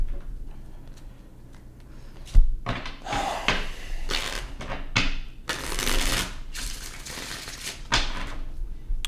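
Cards being shuffled in a series of crisp riffling bursts, close and fairly loud, with short pauses between shuffles and no talking.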